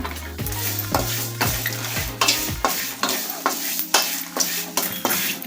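Peppercorns, mustard seeds, asafoetida and grated coconut being stirred and toasted in a hot pan, with rhythmic scraping strokes of a spoon over a soft sizzle, close and clear.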